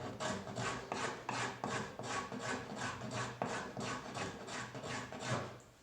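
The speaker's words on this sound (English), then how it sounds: "the rasp, like a file, only cuts in one direction" A hand rasp files a small wooden bench in steady rhythmic push strokes, about three per second, each a close, dry scraping rasp with brief pauses between.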